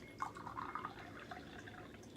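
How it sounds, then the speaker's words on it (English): Shincha green tea poured into a cup, a soft close trickle and gentle splashing with small dripping notes, quiet and brief with no talking. "and then we pour in the tea"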